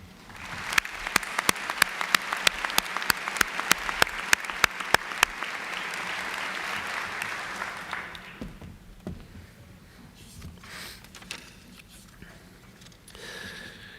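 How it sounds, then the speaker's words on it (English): Audience applause for retiring college staff at a commencement ceremony, a dense sustained clapping crowd for about eight seconds with sharp individual claps standing out, then fading into quieter hall murmur and scattered sounds. "We applaud your combined 147 years of service to the college."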